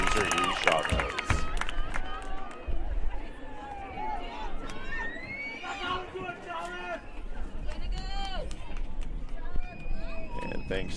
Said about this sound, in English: thanks to our crowd-side mic, you can hear the parents and family and friends supporting those students